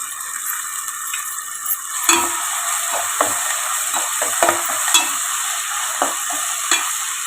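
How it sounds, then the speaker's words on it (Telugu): Ginger garlic paste frying in a pan as green chillies and tomatoes go in, a steady close sizzle broken by several sharp spoon scrapes and clinks against the pan. "చక్కగా వేగుతుంది కదండి అల్లం వెల్లుల్లి పేస్ట్"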